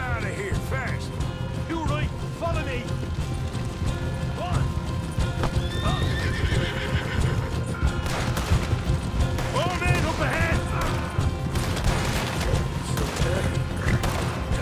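Gunfire in Red Dead Redemption 2 mixed with galloping hoofbeats and repeated horse whinnies, forming a dense, loud action scene with shots scattered amid the clip-clop over nearly fifteen seconds.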